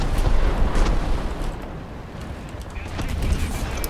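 A tank's main gun fires and the round strikes a wall during an arcade battle in the War Thunder video game on an Alaska map, a loud booming blast with rumbling debris, heavy low-end roar filling the clip.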